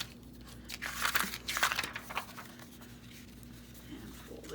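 A sheet of paper being folded in to form a paper bag pocket, brief crinkling and rustling strokes up close, fading to quiet handling.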